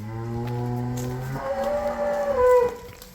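A cow lets out a long, low moo that rises and bends in pitch, close and fairly loud, with no talking.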